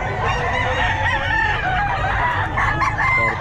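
Several roosters crow and cluck loudly and close together at a busy Bulacan pet market, with overlapping calls filling the whole stretch.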